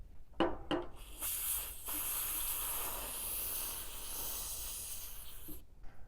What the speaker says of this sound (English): let's get some brake clean and get him cleaned up